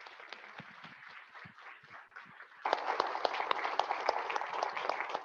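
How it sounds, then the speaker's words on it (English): Audience applause at a Kenosha County Executive candidate forum, scattered clapping at first that swells abruptly midway into fuller, louder, sustained applause. "let's give everybody a round of applause"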